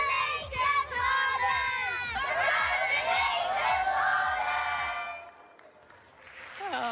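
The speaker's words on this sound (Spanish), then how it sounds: "Aplausos." A large crowd at the Globe Soccer Awards cheers and shouts loudly for Haaland, a dense roar of voices that swells, then drops off sharply near the end.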